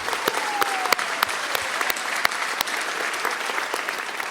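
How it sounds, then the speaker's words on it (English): Graduation ceremony audience for a 2023 senior class applauding, an even spread of many claps with distinct sharp individual slaps, heard from a distance in a large space and steady throughout. "We can clap on that"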